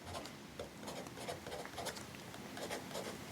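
A pen draws a small hydrangea in a paper planner, making a steady, soft scratching and rubbing of closely spaced little strokes heard up close for several seconds.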